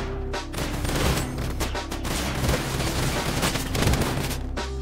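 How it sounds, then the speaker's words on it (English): Rapid bursts of gunfire from a Roblox shooting game, dense overlapping shots and booms at a steady loud level with no talking. "Very good shooting."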